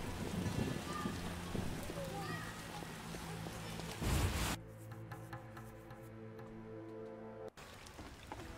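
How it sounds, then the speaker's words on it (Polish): Steady rain patters and hisses across the whole stretch in The Witcher (2007) video game, with a brief louder burst midway and low tonal background music underneath. "Deszcz pada i pada."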